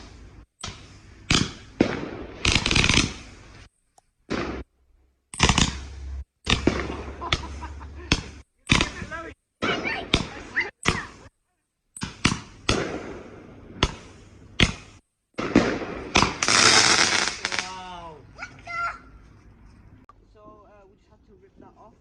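A 96-shot fireworks cake fires in a backyard as a rapid series of sharp bangs and crackles, dozens of loud pops in quick bursts with short gaps, ending in fizzing crackle.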